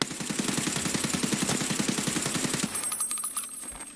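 Rapid automatic fire from a long-barrel rifle in Escape from Tarkov, fired standing as a dense, evenly spaced burst of loud shots lasting nearly three seconds, then stopping with a faint ringing tail.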